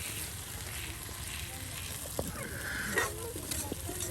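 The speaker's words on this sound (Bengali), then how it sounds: "মশলাটা একদম সুন্দর করে একদম সেই টমেটোর সাথে কষানো হচ্ছে" Spice paste cooking down with tomatoes in a pan, a steady close sizzle with a few scraping stirs of a spoon through the thick mixture, continuous and moderately quiet throughout.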